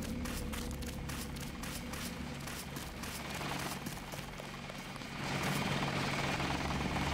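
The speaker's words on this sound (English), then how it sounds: "Yeah, there's a helicopter." A helicopter in the video game Deus Ex, a steady low rotor drone with rapid chopping flutter, sounding fairly close and continuous and swelling slightly louder toward the end, with no speech.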